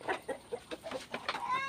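Backyard chickens kept under a house give a run of short, rhythmic clucks, close and moderately loud, about eight quick calls in under two seconds ending in a slightly drawn-out note.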